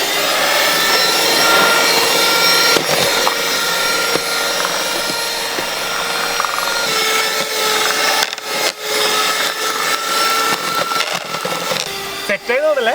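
A mixer whirs loudly as flour is added bit by bit into a large batch of plum cake batter, a steady droning motor hum with grinding texture throughout and short dips near the end.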